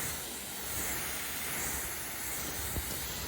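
Water from a hose or pressure sprayer hisses steadily while rinsing soap off a car with a ceramic-coated hood, making a continuous soft spray with a brief splash near the end.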